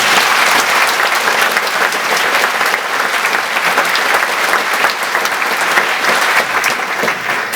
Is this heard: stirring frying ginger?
no